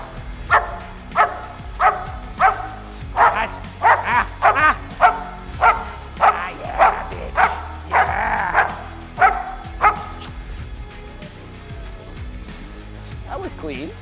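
A dog barks repeatedly and forcefully during protection training, a dozen sharp close barks in a fast rhythm, with people talking briefly over it before the barking stops.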